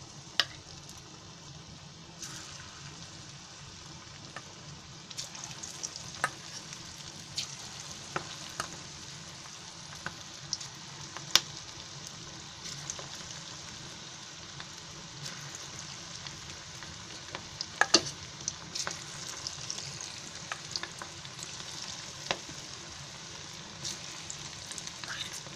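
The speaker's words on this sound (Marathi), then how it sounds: "हे आता मी 1-1 करून आहे ना ते तेलामध्ये सोडते, म्हणजे आपल्याला कसं भजीसारखं तळायचं आहे" Chicken Manchurian balls deep-frying in shallow oil, a steady close crackling sizzle with scattered sharp pops, continuous throughout without talk.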